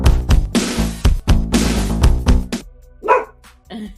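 A dog barks in a quick run of loud, close woofs, then goes quiet and gives a few softer yips and a whimper near the end.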